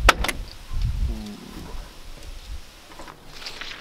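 Electric doors of a classic car swinging open at the press of a button, a soft motor whir with light clicks and latches, moderately close, over a quiet background with faint murmuring.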